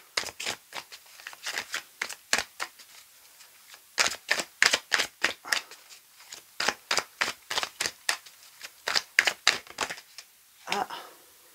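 Tarot cards are cut and shuffled by hand, giving a long run of crisp, close papery snaps and flicks in quick irregular bursts with brief pauses.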